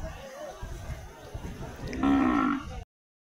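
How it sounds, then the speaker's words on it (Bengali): Cattle low at the Akhaura cattle market on a Friday, a loud, drawn-out moo rising near the end over a busy background of crowd chatter and voices. "কত সুন্দর একটি গরু, মাশাআল্লাহ, খুব সুন্দর একটি গরু।"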